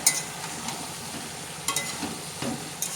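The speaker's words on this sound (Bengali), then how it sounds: "কষিয়ে কষিয়ে রান্না করব যতক্ষণ না বেগুনের জলগুলো শোকাচ্ছে" Potato and eggplant stir-frying in a pan: a soft, steady sizzle with a few brief clinks and scrapes from a stirring utensil, fairly quiet and close, no voices.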